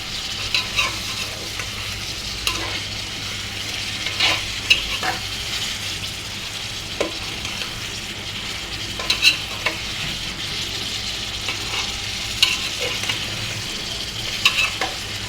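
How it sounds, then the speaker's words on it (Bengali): Chicken sautéed in a pan keeps up a constant loud sizzle and frying hiss, broken by scraping stirs and occasional spatula clacks against the pan, with no talking. "চিকেনটাকে আগে ভালো করে কষিয়ে নেই"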